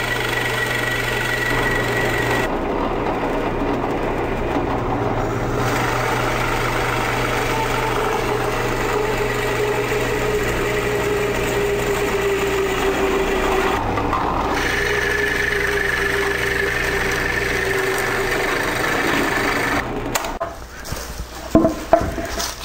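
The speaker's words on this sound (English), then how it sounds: "Use a Forstner bit mounted in the drill press to remove as much waste as possible" A drill press with a Forstner bit whirs steadily for a long stretch, its motor humming under a continuous grinding bore through wood, with a few clunks near the end.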